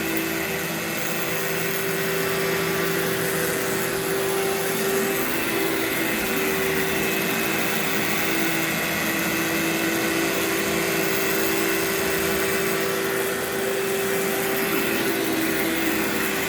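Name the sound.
vacuum cleaner vacuuming before applying cleaning agents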